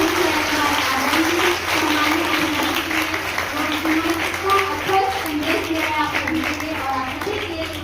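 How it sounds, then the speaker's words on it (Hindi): Schoolchildren clap together during a school enrollment festival in Chhattisgarh, a steady patter of many hands running under someone speaking over a loudspeaker throughout. "बच्चों की जोरदार तालियां"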